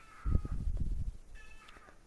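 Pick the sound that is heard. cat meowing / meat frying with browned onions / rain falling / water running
cat meowing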